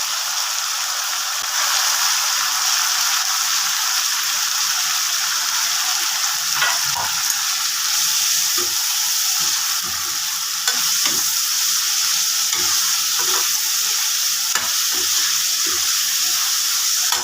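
Chopped onions and greens fry and are stirred in a pan while making saag, giving a steady sizzle with scattered scraping and stirring knocks, close and fairly loud, with no talking.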